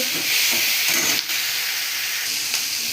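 Whole spices sizzle and hiss steadily in hot oil in a pan, a loud, continuous frying crackle with brief bursts of steam and no talking.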